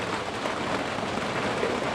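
Steady rain hissing down, a constant broadband wash with no voices, fairly even in loudness throughout.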